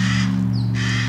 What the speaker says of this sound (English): Birds ruining my vlog.